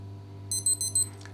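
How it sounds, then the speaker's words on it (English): A Casio RFT-100 watch's interval timer alarm sounds four quick, shrill electronic beeps in an even rhythm, close and clear over a low steady hum, with no talk. "The watch again will sound an alarm to let you know that you're about to start your second repetition."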